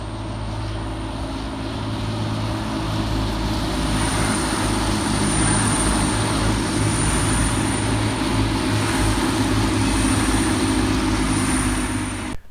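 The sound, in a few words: Class 185 Transpennine Express trains at Mirfield station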